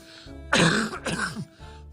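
A man clears his throat in two strong, rough bursts followed by a shorter cough, close and loud against a quiet background.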